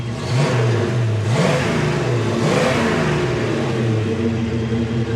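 A 1970 Mustang Fastback with its numbers-matching 351 V8 revs repeatedly, loud and close, its deep engine note rising and falling in several quick blips over a rumbling idle.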